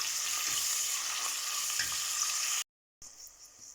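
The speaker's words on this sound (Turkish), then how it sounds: "1-5 dakika biberlerimiz hafiften böyle yumuşayana kadar bir şöyle çeviriyoruz" Peppers, onion, garlic and spices sizzling in a pan as they are stirred for lentil soup, a steady close frying hiss that cuts out briefly near the end and then resumes.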